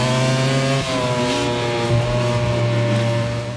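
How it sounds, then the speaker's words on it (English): Yamaha cross-plane crank Big Bang MotoGP engine in a racing video game, a loud steady droning engine note held close with a brief shift in pitch partway through, no voices. "So here we have the Yamaha cross-plane crank Big Bang engine, and it's one of the most unmistakable engine notes of any bike"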